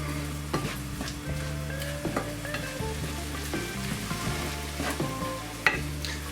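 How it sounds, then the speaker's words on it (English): Food stirred in a pan over low-medium heat after rice wine vinegar goes in, while cooking crispy shredded chilli beef. A steady sizzle and hum run throughout, with light utensil scrapes and knocks and one sharper clink near the end. "Just stirring something else in the background."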